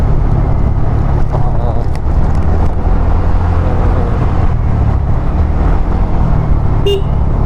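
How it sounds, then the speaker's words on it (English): A TVS Ntorq 125 scooter accelerating on a village road gives a loud, constant low engine drone mixed with heavy wind rush, and a short high tone near the end. "The bike is very aggressive and give response very quickly as we give accelerator to it."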